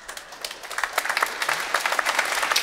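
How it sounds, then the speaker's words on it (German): A studio audience at a German TV football talk show breaks into applause, the clapping starting thin and quickly swelling into steady, dense, close clapping that carries on to the end. "Starthaft beginnt der Applaus."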